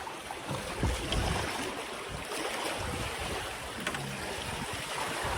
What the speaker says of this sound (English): you can hear the boat through the water